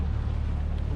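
A motorboat cruises at about 22 mph across a calm lake, a steady low engine drone mixed with rushing wind buffeting the microphone, loud and continuous.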